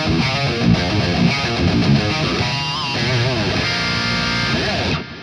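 Distorted electric guitar chords from a Kiesel guitar through a PolyChrome DSP HyperRig with reverb and delay ring out with a washy, echoing tail, loud and sustained, notes smearing into repeats before cutting off at the end.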